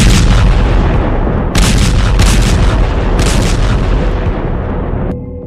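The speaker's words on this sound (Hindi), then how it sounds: "ईरान के बुशर न्यूक्लियर प्लांट के करीब धमाके शुरू हो गए हैं।" Bomb blasts go off near a nuclear plant in a barrage of loud, overlapping booms and rumbling detonations that keep up almost without pause, then fade into a dull roar at the end.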